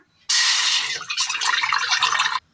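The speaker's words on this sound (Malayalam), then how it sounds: "ഒരു പാത്രം അടുപ്പത്ത് വെച്ച് കൊടുത്ത് അതിലേക്ക് വെള്ളം ഒഴിച്ചു കൊടുക്കാം" Water pours steadily into a cooking pot set on a stove, a bright continuous splash that shifts to a bubblier, more uneven gush as the pot fills, close and alone, stopping abruptly.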